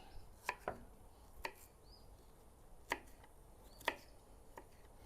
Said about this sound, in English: So it's almost like chopping, but you don't want it as fine as if you're chopping.